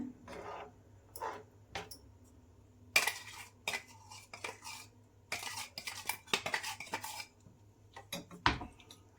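Plum cake batter is mixed in a bowl at home, with a spoon clinking and scraping against the bowl in irregular bursts that are quiet and close, with no talking.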